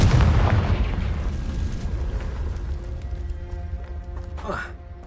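Confringo blasting spell from Hogwarts Legacy, a heavy, close explosion boom that rolls off and fades over several seconds, with a voice shouting near the end.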